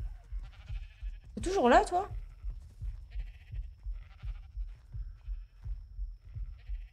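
A sheep bleats once in a video game, a short wavering cry standing out over a low rumbling game background, with someone speaking French around it.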